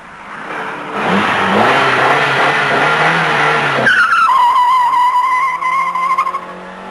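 An Alfa Romeo Alfasud TI accelerates hard with tires squealing, its engine note climbing loudly through a long pull, then a shift into a higher, whining rising tone that fades slightly at the end.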